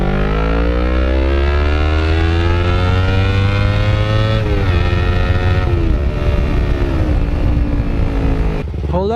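Motorcycle revving hard and accelerating for a wheelie on an Indonesian road ride, with a loud, steady engine note climbing in pitch, dipping briefly at a shift, then rising again before cutting off near the end.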